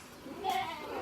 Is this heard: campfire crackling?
no